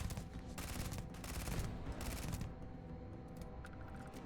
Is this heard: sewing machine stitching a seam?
no